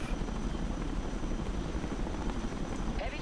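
A helicopter in the video game Broken Arrow, a steady low rotor thrum and engine drone that holds evenly throughout, with a faint voice briefly audible underneath.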